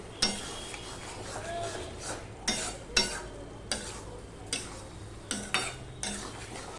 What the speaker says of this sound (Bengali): এবার টমেটোটা আমি একটুখানি এইভাবে ঘেঁটে দেবো বেগুনটাকেও ঘেঁটে দেবো